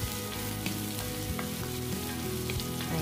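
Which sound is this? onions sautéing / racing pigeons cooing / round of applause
onions sautéing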